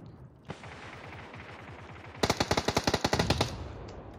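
Automatic gunfire in PUBG: a distant fast rattle of shots for the first two seconds, then a loud close burst of about a dozen rapid rhythmic rounds, with no talking.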